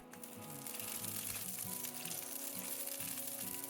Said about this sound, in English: We'll place the dumplings flat side down in the pan,